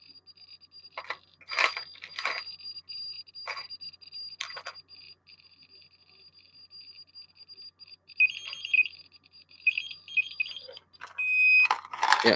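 A Geiger counter radiation detector gives off a steady high-pitched alarm tone, scattered crackling clicks and bursts of rapid beeping. It sounds fairly close and fairly quiet, with no one talking.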